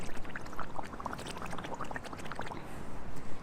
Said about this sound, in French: mettre simplement la bouche dans l'eau et de faire quelques bulles comme ceci